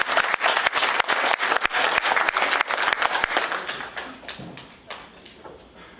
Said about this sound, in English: Give a big hand of applause.